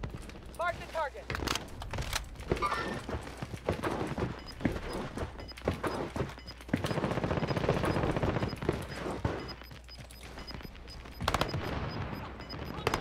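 Gunfire in Call of Duty Warzone on a Boneyard map, with repeated bursts and single shots cracking throughout amid footsteps and movement while players talk over it.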